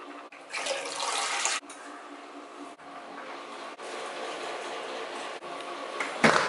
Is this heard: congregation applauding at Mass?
no